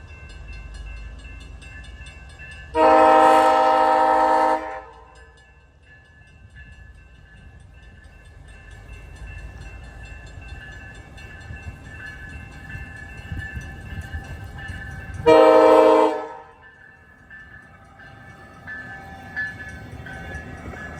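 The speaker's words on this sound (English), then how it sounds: "that's another Siemens Venture train set. These are brand new train sets. Here it is coming out of the siding." A new Siemens Venture passenger train set pulls out of a siding at Casselman, Ontario, sounding two long, loud horn blasts over a low rumble of rolling wheels and a distant engine drone.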